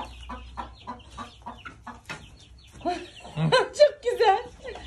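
Chickens and a rooster at a village farm cluck and call in repeated short bursts, close by and fairly loud, while people talk over them.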